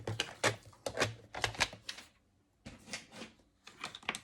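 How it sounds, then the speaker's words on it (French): A bone folder presses fold marks into paper for a pop-up box, a run of quick rhythmic scraping strokes in two bursts separated by a short pause, close and fairly quiet. "faire mes marques de pli avec mon plioir en os"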